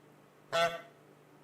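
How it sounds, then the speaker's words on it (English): A car horn gives a single short honk, moderately close, in an otherwise quiet setting. "Honk."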